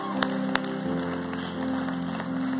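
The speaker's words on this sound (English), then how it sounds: "Can we give them a round of applause?" Applause from a gathered audience at an on-site community event, a moderate wash of clapping with a couple of sharp louder claps, under a steady hum of background music or drone.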